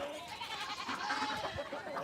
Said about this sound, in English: It's a live goat.